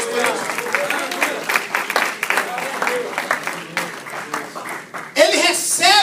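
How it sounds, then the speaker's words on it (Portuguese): A church congregation claps during a worship service in Portuguese, the scattered rhythmic clapping running beneath a preacher's loud voice, which carries throughout and swells near the end. "Aplauda ao Senhor Jesus por isso."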